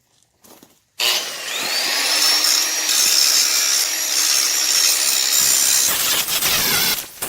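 An angle grinder grinds slag off fresh welds on a landscape rake being rebuilt, a loud continuous whining grind that starts abruptly and holds steady for about six seconds before spinning down.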